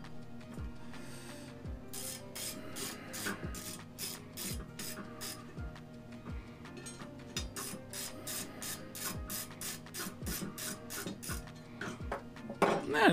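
A socket wrench ratchets as a bolt is tightened while assembling climbing sticks, with rapid clicking bursts and metallic knocks repeating close by, no talk.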